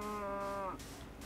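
A Minecraft cow gives a single drawn-out moo, low and harmonic, fairly quiet and alone, fading after under a second.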